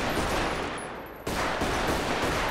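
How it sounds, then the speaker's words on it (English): Rapid gunfire in a GTA 5 roleplay game, a dense continuous burst of shots that briefly dips and then resumes at full loudness, with no talk. "came out of nowhere and started shooting"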